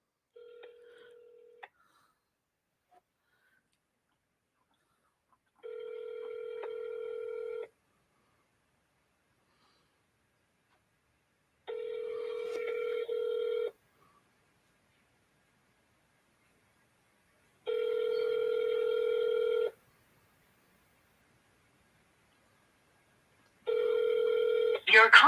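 Telephone ringback heard over a speakerphone: five evenly spaced ringing tones about six seconds apart, the first one shorter, each a steady buzzy tone separated by silence, after a brief bit of dialing-type sound at the start.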